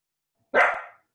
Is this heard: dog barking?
yes